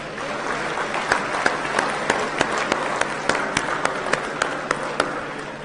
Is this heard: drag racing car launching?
no